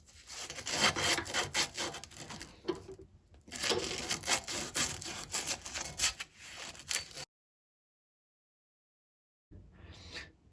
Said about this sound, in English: So we just got some aluminum oxide sandpaper here.